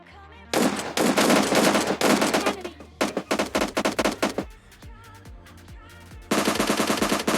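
An AKM rifle fires in a video game in loud sustained automatic bursts, then shorter staccato volleys, and closes with another long burst.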